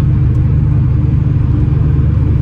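Loud, steady low exhaust rumble from a Corrado G60 driving without its supercharger engaged, a constant close drone that fills the cabin with no voices over it.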